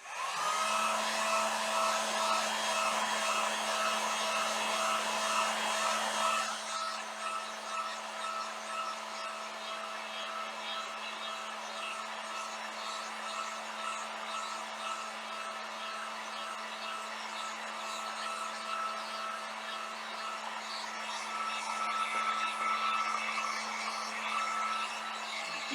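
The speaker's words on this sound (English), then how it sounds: "I'm going to get out my heat gun and I'm going to dry my chalk paste" Heat gun blowing steadily to dry chalk paste, a loud, constant whirring hum that shifts slightly in tone partway through and runs for about twenty-five seconds without speech.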